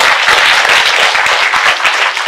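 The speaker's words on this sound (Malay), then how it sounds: "Satu tepukan gemuruh untuk Ma'ruf Kelab." A large audience claps loudly and continuously, a dense crowd of applause with no talking.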